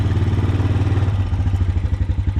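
A Honda TRX250TE quad's engine idles with a steady mechanical clatter, then its pulsing note shifts partway through as the electric shift drops it into first gear.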